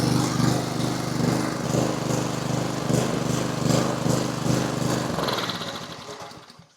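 A small engine running steadily after a carburetor repair, with no air filter fitted, a close buzzing lawn-mower-like drone that holds for several seconds before winding down and fading out.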